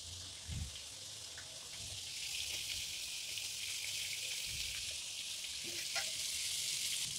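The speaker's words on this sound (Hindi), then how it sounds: "मीडियम फ्लेम पे इसे लाइट ब्राउन कर लेंगे।" Methi and kadima sabji mixture frying over a medium flame, a steady hissing sizzle that swells slightly midway, with a couple of soft thumps, close and constant.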